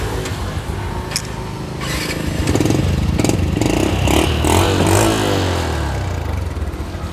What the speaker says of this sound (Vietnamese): để chỗ nổ máy anh em mình nghe ha